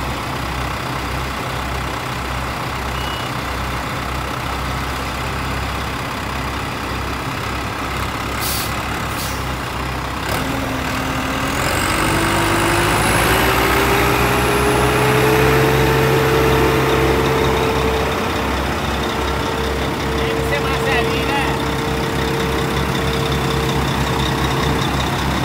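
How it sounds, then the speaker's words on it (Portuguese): A large diesel tractor engine drones loudly and steadily, then revs up with a rising whine and keeps straining under heavy load while pulling a truck stuck in mud. "Agora o trator vai puxar o bruto."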